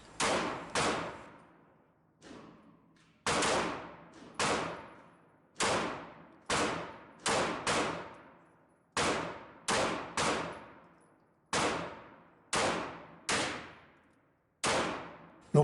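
Taurus PT-709 Slim 9mm semi-auto pistol firing at a range: about a dozen loud, sharp reports spaced roughly a second apart, each with a short ringing decay and no talking.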